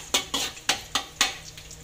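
Garlic and onion sauté in a pan, a spatula scraping and tossing in five quick rhythmic strokes over a soft sizzle, close and fairly quiet.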